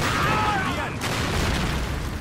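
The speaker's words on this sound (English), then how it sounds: "grenade!" A grenade blows up in a Call of Duty war game: a heavy, low boom rolls out close by and then rumbles away, with a voice shouting over the opening moment.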